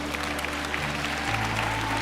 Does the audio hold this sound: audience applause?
yes